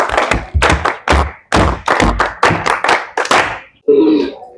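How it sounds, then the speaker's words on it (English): Primary seven pupils at a school science show clap in loud, near, irregular bursts of sharp hand claps with thumping accents, ending in a brief softer sound. "let's clap for ourselves"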